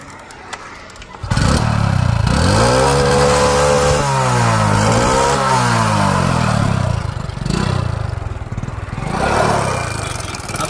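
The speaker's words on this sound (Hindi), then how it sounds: "अब इसको एक बार स्टार्ट करता हूँ, इसके इंजन के साउंड को चेक करवाता हूँ।" A Hero Honda CD Deluxe motorcycle engine, freshly restored, cranks and starts, then runs loudly close by, revving up and down in steady swells before settling to a rough idle.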